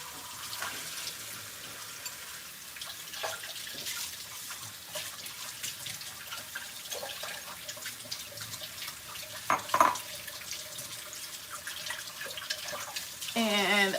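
Tap water from a filtered kitchen sink faucet runs steadily, a soft broad wash with a few clinks and handling noises as something is rinsed beneath it, with a louder splashing burst near the end.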